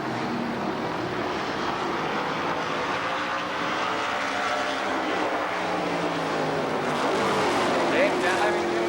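Race cars roar around the Columbus Motor Speedway oval during a Race of Champions event, a dense, continuous engine drone with passing surges growing louder near the end, under a track announcer's commentary.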